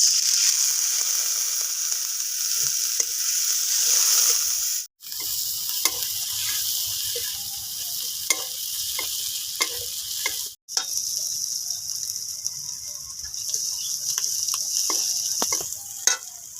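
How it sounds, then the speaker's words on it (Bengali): A masala of cinnamon, cardamom, black pepper and chilli powder with a splash of water fries hard in a kadai, giving a steady loud sizzle with light clicks and scrapes of stirring, cut by two brief pauses. "মশলাটা ভালোভাবে ভেজে নিয়েছি পুরো কড়া করে"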